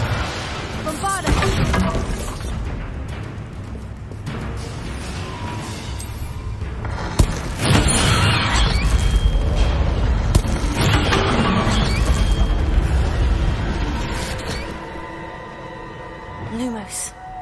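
Bombarda spell blasts in Hogwarts Legacy, loud booming bursts with rumbling tails mixed among other spell effects and game sounds, with a voice calling out spell names throughout.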